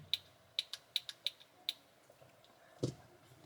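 A DC Multiverse Green Lantern action figure's stiff head joint gives off a series of small, sharp clicks, about seven quick ticks in the first two seconds and one more later, faint and close with no talk.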